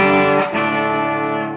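A restored Peavey Encore 65 amp carries an electric guitar on its single-coil pickup in phase, with light reverb, ringing a sustained chord that is briefly re-struck and then holds steady and loud, slowly fading.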